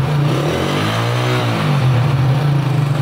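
A 2014 Suzuki Satria F150 motorcycle engine runs steadily up close with a rough, raspy drone and a brief rise in pitch partway through, no voices.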